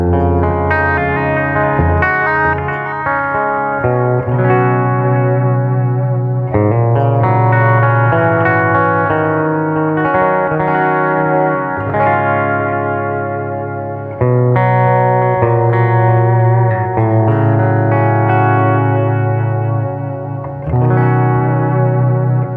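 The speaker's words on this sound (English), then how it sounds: "with some delay and reverb to give it a pretty clean sound" Electric guitar chords ring out with a clean bridge-pickup tone through a Peavey Vypyr 30 amp, washed in delay and reverb, played continuously with repeating trails.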